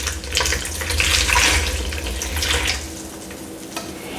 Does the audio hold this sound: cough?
no